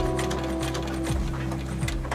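Sewing machine stitching leather at a long stitch length of 5.0, running slowly and steadily with a constant mechanical whir and hum and faint rhythmic ticking throughout, close and moderately loud with no talking.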